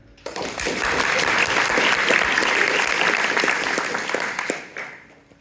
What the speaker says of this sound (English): The applause sign is lit up again.